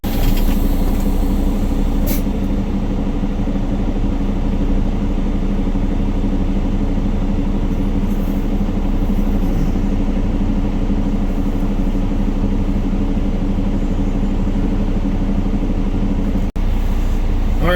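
A heavy truck's engine idles and rumbles close by at a truck wash bay, a steady low drone that holds for the whole stretch while the rig pulls in. No one talks over it.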